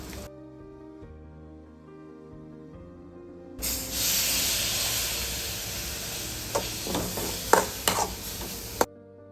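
Papaya stir-fry with chicken masala, coriander leaves and chilli powder sizzles loudly in a pan after a few seconds of soft tonal music, with scraping stirs and small clinks near the end.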